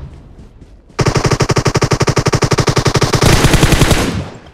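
Automatic gunfire in PUBG Mobile, a long rapid burst of loud, evenly spaced shots after a softer stretch of quieter shots, with no talk.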